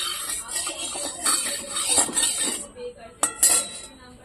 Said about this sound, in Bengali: আমি কড়াইটা বসিয়ে দিয়েছি, এখন আমি তেল দিয়ে দেবো, যতটা পরিমাণ তেল লাগবে অল্প করে তেল দিয়ে দিলাম।